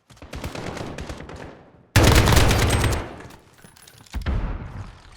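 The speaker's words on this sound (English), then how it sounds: "So first of all, we've got the AK-47." AK-47 rifle fire in Call of Duty Modern Warfare: loud rapid automatic bursts, with a dense opening volley, a sharp heavy burst around the middle that fades, then another strong burst near the end.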